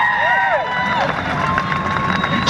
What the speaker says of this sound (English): How about a big round of applause for Johnny Lobo?